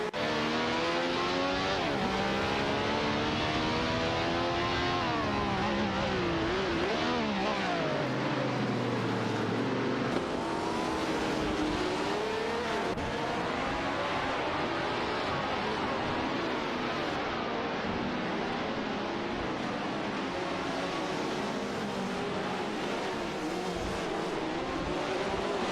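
Race cars, including a Ferrari 312, scream through a video game race, engines rising and falling in pitch as they shift and pass, loud and continuous with little else heard.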